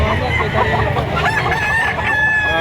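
A rooster crows loudly and close by, its drawn-out call filling the clip over a busy background.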